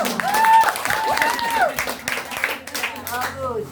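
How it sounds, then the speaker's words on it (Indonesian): Church congregation clapping in praise during a worship service, a fairly loud burst of applause mixed with cheering voices and whoops, fading slightly toward the end over a few seconds. "Beri tepuk tangan untuk Tuhan."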